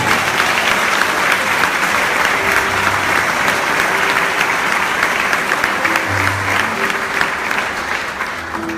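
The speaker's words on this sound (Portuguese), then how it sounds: "Aplaude mais uma vez ao Senhor." Church congregation applauding during a Portuguese-language sermon, dense steady clapping from many hands that fills the room for several seconds with faint voices mixed in.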